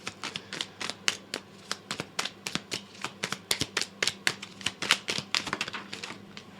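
Tarot cards are shuffled and drawn, giving a rapid, regular train of sharp card snaps and flicks, close and distinct, with no talking.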